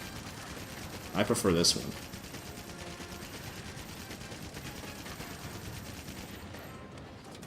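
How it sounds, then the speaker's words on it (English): A rapid-fire chain gun rattles in a short loud burst in Monster Hunter World, then drops back to a steady low hum of game ambience while a voice speaks briefly over it. "this one has like a rapid fire chain gun"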